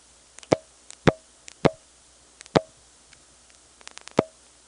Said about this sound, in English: this particular district junctor has a funny relay ring sound that it makes as Ben flashes his hook a few times in anticipation of hanging up.